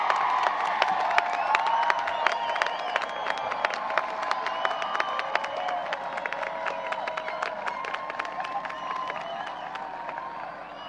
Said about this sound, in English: Can we have another round of applause for our newly minted class of